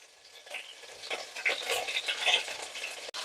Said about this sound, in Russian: Курочка красиво зажарилась на одной стороне. Мы ее перевернули, будем обжаривать на другой.